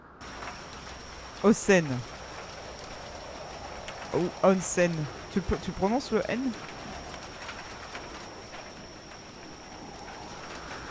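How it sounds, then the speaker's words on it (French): Steady rain and wind from a storm in the horror game The Bathhouse by Chilla's Art, a continuous hiss running under short bursts of speech. "Il y a du vent, il y a de la pluie, il y a de la tempête."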